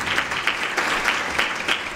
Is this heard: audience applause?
yes